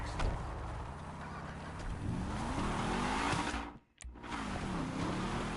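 A car engine in a video game drones and revs steadily, its pitch rising and falling. It drops out for a brief moment near the end, then returns at full loudness.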